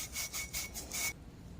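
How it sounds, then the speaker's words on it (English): Light back-and-forth sanding of a corroded motorcycle steering stem, five quick rhythmic abrasive strokes, close and fairly quiet, then a faint hush. "give it a light sanding if it needs it to clean off any corrosion"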